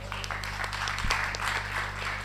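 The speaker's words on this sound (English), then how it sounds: "everyone give a big round of applause for Eunice" Audience applause for a performer named Eunice at a Q and A event, steady clapping from a crowd over a constant low electrical hum.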